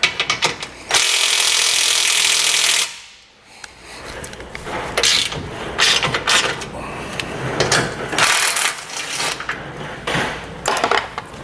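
A ratchet with a 14mm socket works a bolt loose on a 2020 Honda Pioneer 1000-5 during an ATV winch install. A loud broadband burst is followed by a run of close, scraping, clicking metal tool sounds.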